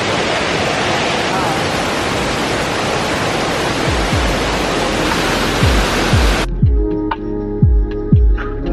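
A waterfall at Burgess Falls roars loud and steady as a broad wash of rushing water, then cuts off abruptly near the end, leaving quieter outdoor sounds with a few soft thumps.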